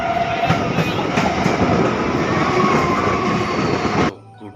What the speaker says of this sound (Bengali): গেট পড়ে কিন্তু ট্রেন যাচ্ছে